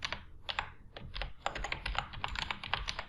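Rapid clicking keystrokes on a computer keyboard while entering code, a close, steady flurry of taps with brief pauses between bursts.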